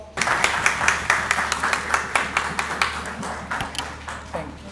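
Attendees at a consumer law seminar in Pakistan applaud for a few seconds. The clapping is moderate and fairly close, with individual claps distinct against a steady low hum.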